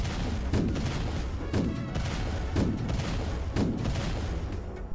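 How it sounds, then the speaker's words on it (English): A Roblox game boss firing his rocket launcher, a series of five evenly spaced whooshing blasts about a second apart, layered over a constant rumble of game noise. "surviving his other attacks, like his rocket launcher"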